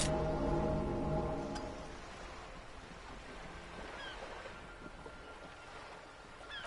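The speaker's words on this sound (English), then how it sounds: "The wind flaps the sail above her." Wind blowing across open water with a boat sail flapping overhead, a steady breezy rush with surf-like wash, louder at first then settling, no voices, heard in the video game Disco Elysium.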